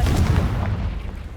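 A Confringo blasting spell goes off in Hogwarts Legacy, a single heavy, booming blast with a deep rumbling body that fades out over a second or so, loud and close.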